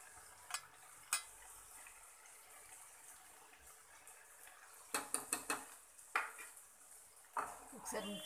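Drumstick curry seasoned with chili powder is stirred in a pan, a spoon clinking and scraping against the metal in scattered clusters, quiet and close, with soft background noise between the strokes.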